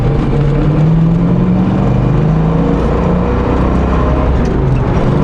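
A light, roughly 200-horsepower classic American muscle car revs hard and accelerates, its engine note loud and close, climbing steadily through the gears as a continuous roar, with no talk over it.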